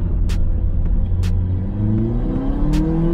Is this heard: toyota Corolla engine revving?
yes